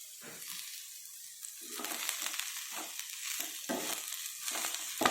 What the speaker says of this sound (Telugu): మీడియం ఫ్లేమ్లో పెట్టుకొని బాగా వేసుకోవాలి.